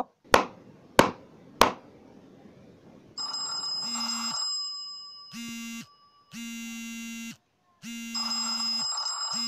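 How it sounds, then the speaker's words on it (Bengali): Three sharp hand claps ring out, then an Android phone, triggered by the clapping through an app, answers with a loud, repeating electronic ringtone in bursts that start and stop several times. "হাতে তালি দিবেন সরাসরি আপনার ফোনটি একটা সাউন্ড করে"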